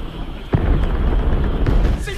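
Explosions from a surprise night attack by American ships on a wartime Japanese position, a heavy boom near the middle followed by rumbling blasts and a later thump, all loud and close.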